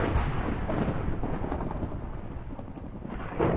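Thunder used as a sound effect: a loud, continuous rolling rumble with a dense low roar that swells again near the end, with no voices.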